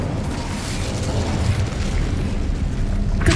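An Incendio fire spell cast in the Hogwarts Legacy video game, a loud continuous roaring burst of flame that rushes and crackles for a few seconds, ending in a brief sharper flare.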